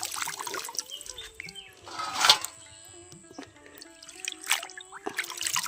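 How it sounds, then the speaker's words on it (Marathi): Water runs and trickles while radish leaves are rinsed clean of red village soil outdoors, with splashing bursts and brief muffled voices. "पालेभाज्या छान असं स्वच्छ धुवून घ्यायच्या"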